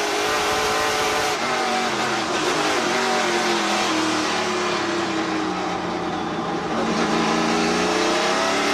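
NASCAR Pinty's Series race cars accelerate on track at the La Fernandière Summer Classic at ICAR, a loud continuous engine roar with rising revs as several cars pass close by.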